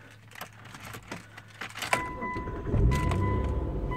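2003 Mitsubishi Eclipse Spyder GT V6 starting up: jangling keys and clicks, then the engine catches and settles into a low steady idle with a faint whine, close by.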